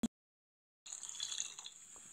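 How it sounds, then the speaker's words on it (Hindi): Water pours steadily into a cooking pan while egg curry is being made, a close, continuous splashing stream that begins after a brief click and a moment of silence. "अब जितना काढ़ा रखना चाहते हैं उसी हिसाब से पानी को डालेंगे"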